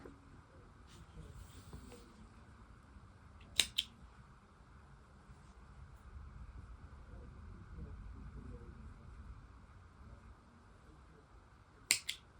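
Scissors snip yarn ends from a crocheted cotton coaster, two sharp close cuts heard well apart over quiet room hiss with faint handling sounds.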